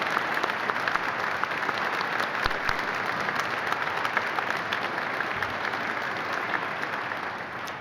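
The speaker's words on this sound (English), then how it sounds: "That's worth of applause." Sustained applause from a large conference audience at a war history event, an even wash of clapping that runs steadily throughout and fades slightly at the end, with no talk over it.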